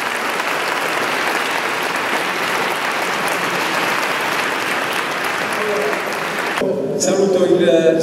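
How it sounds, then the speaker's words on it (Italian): Audience applause at a high school choir concert in Fermo, a dense steady wash of clapping from a large crowd that stops abruptly near the end, giving way to a few voices and faint music. "Un applauso a voi."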